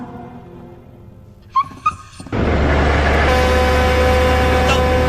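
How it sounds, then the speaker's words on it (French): A small dog in an animated series gives a couple of high, brief whimpering yips, then a loud engine-like rumble suddenly takes over and drowns everything out. "Oh, regardez, un petit chien."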